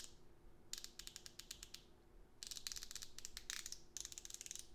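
A 120-tooth ratchet wrench clicks on a shoulder bolt in quick, fine-pitched bursts of rapid clicking separated by short pauses, close and quiet with no talking.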